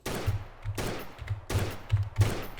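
Desert Eagle pistol fired in SAMP, San Andreas Multiplayer: four loud, sharp game gunshots spaced roughly three-quarters of a second apart, each with a short decaying tail, heard close and clear with no talking.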